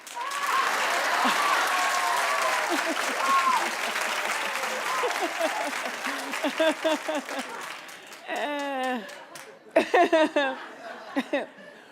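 Studio audience of a daytime talk show clapping, a loud burst of applause that fades, followed by scattered laughter and a few voices talking over the thinning claps.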